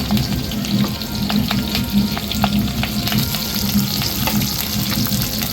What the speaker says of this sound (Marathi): दोन ते तीन मिनटं ह्या मिरच्या खालीवर भाजून घ्यायच्या छान